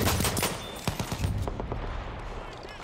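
Enemy machine gun fire in the World War I shooter Battlefield 1, bursts of rapid cracking shots loud in the first second, then thinner scattered fire and battle noise fading behind.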